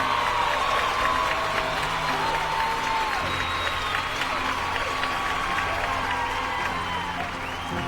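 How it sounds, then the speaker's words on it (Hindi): Audience applause at an agriculture product business event in India, welcoming a guest speaker onto the stage: steady, dense clapping from a large crowd that fills the whole stretch with an even roar, with faint voices and cheers mixed in. "जोरदार तालियों के साथ काजी सर का यहाँ पे हम स्वागत करेंगे।"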